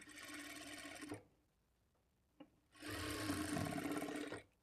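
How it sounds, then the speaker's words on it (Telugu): Sewing machine stitching dots on the front panel of a blouse, two bursts of steady motor whirring and needle clatter separated by a quiet gap with a brief click. "ఇదే విధంగా రెండో డాట్ దగ్గర కూడా స్టిచ్ చేసుకోవాలి"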